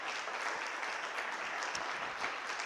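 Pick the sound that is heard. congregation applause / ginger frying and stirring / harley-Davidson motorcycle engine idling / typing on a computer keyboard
congregation applause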